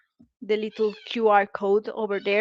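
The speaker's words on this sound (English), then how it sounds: "That's Komi. She will not stop meowing when I speak." Pet cat Komi meowing over and over, a string of loud, close, drawn-out meows interrupted by a person talking.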